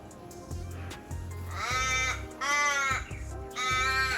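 Ravens in Western Australia give drawn-out, nasal caws, several in a row with short gaps, fairly close and clear against a quiet, cool outdoor background.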